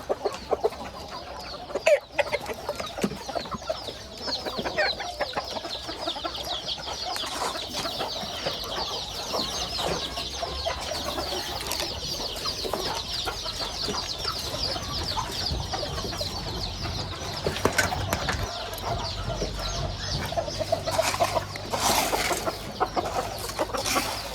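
Young cockerels cluck and chatter continuously at close range in a busy, overlapping stream, with a few louder calls standing out throughout.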